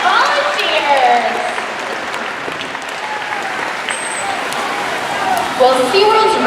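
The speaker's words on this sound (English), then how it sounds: "How about a round of applause for Katina, Nalani, Malia, and our audience" The audience at the SeaWorld Orlando Orca Encounter killer whale show breaks into loud, steady applause from a large outdoor crowd, with scattered whistles and cheers mixed in.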